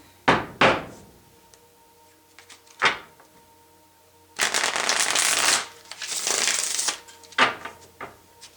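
Tarot cards being handled and shuffled close up, with sharp taps and knocks first, then two longer riffling bursts, then more light taps.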